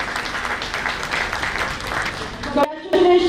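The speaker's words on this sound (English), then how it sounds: "A big round of applause once again for GMA." Audience applause at a Ghaziabad Management Association event, a continuous patter of many hands clapping that breaks off near the end, where a voice briefly comes through.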